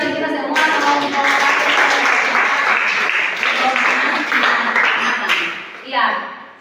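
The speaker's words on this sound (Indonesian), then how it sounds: "sekali lagi kita berikan tepuk tangan yang meriah bagi kita semua kelompok" Dense, lively applause from a seated group of teacher-training participants in a session room, sustained for several seconds before tapering off, with some voices mixed in.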